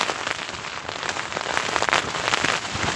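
Intense rain pours onto a tent during a heatwave lightning storm, a dense, close drumming hiss with bursts of heavier spatter, steady and loud with no voices.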